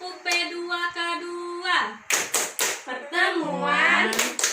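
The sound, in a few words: group clapping a rhythmic P2K2 clap chant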